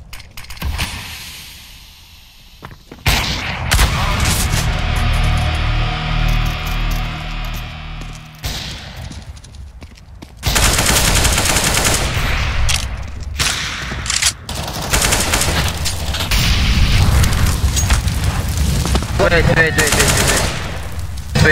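Automatic gunfire in Counter-Strike: Global Offensive rattles in loud bursts and sustained volleys, close and intense, with players talking in between.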